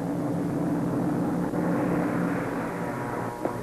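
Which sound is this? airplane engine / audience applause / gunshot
airplane engine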